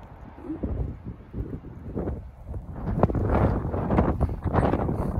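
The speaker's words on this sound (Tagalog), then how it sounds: "Grabe guys yung weather ngayon. Sobrang mahangin." Strong, gusty wind buffets the microphone in a continuous broadband roar that swells louder after the first few seconds, with a few faint knocks underneath and no clear voices.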